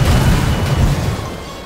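A helicopter explosion in the video game GTA 5: a loud, heavy, low rumbling boom that fills the clip and slowly fades, with no talk over it.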